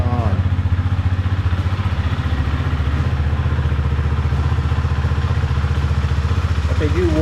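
A Husqvarna Svartpilen motorcycle engine idles steadily nearby, a loud, even, pulsing rumble with rapid regular firing beats throughout, while someone talks over it.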